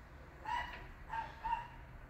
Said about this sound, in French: J'ai un chien de garde de dingue.